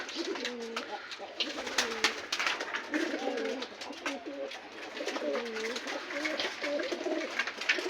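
Pigeons coo steadily on a rooftop pigeon farm, several birds overlapping in repeated low rolling calls at close range, with constant background noise and no one speaking.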